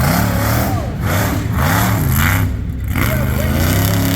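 A monster truck engine roars at the Sussex County Fair show in New Jersey, revving in repeated loud surges and dips, while an announcer's voice carries over it.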